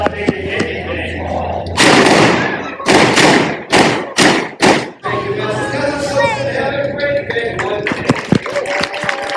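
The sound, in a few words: gunshot in Deadwood shootout reenactment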